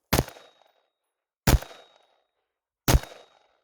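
Three sharp, loud gunshots from a Desert Tech MDRX rifle, evenly spaced about 1.4 seconds apart, each a hard crack with a short decaying tail and silence between.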